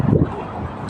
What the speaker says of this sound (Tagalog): mahangin pa naman